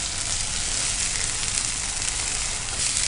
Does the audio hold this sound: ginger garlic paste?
yes